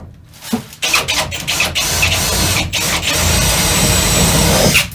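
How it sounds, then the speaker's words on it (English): A step drill bit grinds steadily through metal while a window is cut into a Sprinter van, a harsh continuous whine with a thin high-pitched tone rising near the end, close by and loud. "cut this window out. Step drill first."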